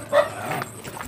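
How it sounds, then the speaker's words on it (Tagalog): Dogs bark at arriving visitors with a quick yip and a brief bark close by, short and loud against an outdoor background. "Kung pumapasok tayo dito ay sinalubong agad tayo ng mga aso."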